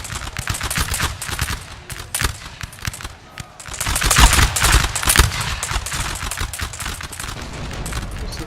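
Musket volleys crackle in Napoleon: Total War, dense ragged gunfire rolling continuously with louder bursts midway, fired rank after rank in a large online line battle.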